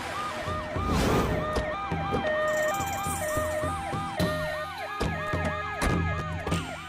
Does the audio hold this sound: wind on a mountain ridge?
no